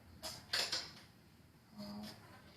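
A chair creaks in a few faint, drawn-out groans, one pair early and a longer strained creak near the end, in a quiet room without talk.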